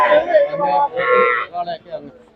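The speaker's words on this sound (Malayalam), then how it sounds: "ഇത് മൊത്തം പശുക്കളുടെ ഏരിയ അല്ലേ" Cattle at a livestock market mooing, cows and calves lowing loudly in several long calls close by, one after another, with people talking faintly among them.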